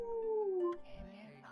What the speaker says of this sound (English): the majestic wolf gazed heavenward and unleashed a mighty howl